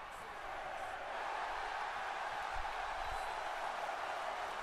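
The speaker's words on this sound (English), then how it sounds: "Crowd cheering for Axel here." A wrestling arena crowd in WWE 2K17 keeps up a steady, broad roar of cheering, a dense wash of massed voices that swells slightly and holds without letting up.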